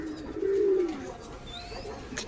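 A domestic pigeon at a loft gives a clear, close, low coo lasting about half a second, followed by softer bird calls and faint background noise, with no talking.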